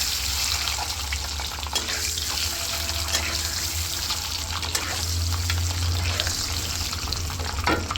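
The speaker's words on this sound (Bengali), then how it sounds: "সামান্য একটু হলুদ দিয়ে আমি ডিম আগে ভেজে নেব।" Eggs with a little turmeric fry steadily in a pan, a dense close sizzle that runs the whole time with faint clinks and scrapes in the background.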